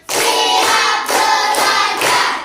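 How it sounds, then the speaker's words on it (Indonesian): A classroom of students claps in counted rhythmic bursts, with four sharp, loud blocks of clapping separated by brief pauses, close and dense with many hands together. "satu, tepuk dua, tepuk tiga, tepuk empat, tepuk lima"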